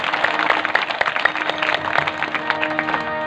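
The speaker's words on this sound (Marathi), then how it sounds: "सर्वांसाठी एकदा जोरदार टाळी वाजवा" Audience applause at a Marathi devotional kirtan gathering, steady rapid hand clapping from many people, moderately near and continuous for several seconds.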